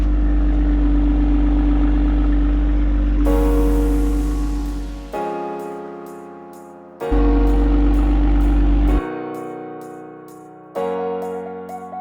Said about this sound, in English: that startup exhaust note is pretty nice, not gonna lie